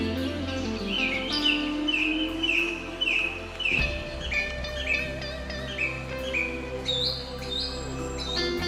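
Birds sing in a park beside ponds that draw waterfowl, a continuous chorus of bright chirps and repeated whistled phrases layered over a steady low hum, several birds calling at once throughout.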